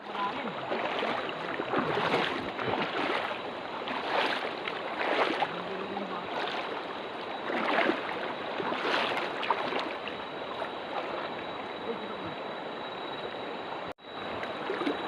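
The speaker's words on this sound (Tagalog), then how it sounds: "ito yung unang ilog na tatawirin namin" A shallow, knee-deep mountain river in the Sierra Madre highlands of Dingalan flows steadily, a broad continuous rush of water close by with splashy surges, with a short dropout near the end.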